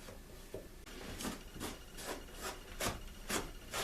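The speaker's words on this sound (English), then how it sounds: "To make these little gaps and cracks go away, I'll just rub a little caulk in there." A finger rubs caulk into small gaps and cracks in AZEK PVC board, making soft, close, rhythmic swishing strokes about twice a second, faint and steady with no voices.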